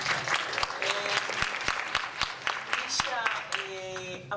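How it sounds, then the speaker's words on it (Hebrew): Audience clapping at a science and skepticism talk, a burst of individual claps in an irregular rhythm that thins out, with someone speaking over it. "אל תתביישו, אתם יכולים לחוא כפיים"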